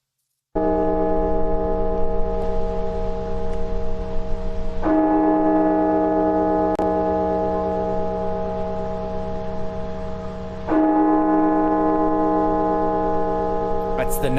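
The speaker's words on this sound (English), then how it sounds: "The National Cathedral in Washington, D.C. last night. Its bell tolling 300 times" The National Cathedral bell in Washington, D.C. tolls slowly, each deep resonant strike ringing out and sustaining long before the next, three strokes heard in a steady measured rhythm.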